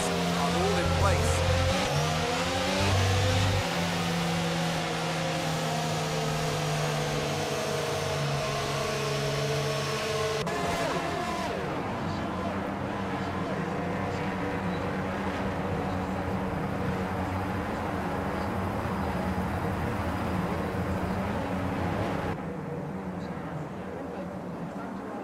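F1 cars reform the starting grid in F1 22 at Japan, engines droning and revving steadily up close, pitch sweeping between gears while a voice talks over them.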